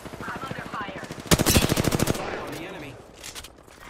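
Enemy gunfire in a multiplayer shooter played on PC: a rapid, loud automatic burst of about a dozen evenly spaced shots, with a player voice talking before it and fainter shots trailing after.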